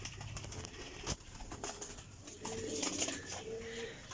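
Pet pigeons from a breeder's loft coo softly in low, rolling calls, faint and somewhat distant, with a sharp click or flutter partway through.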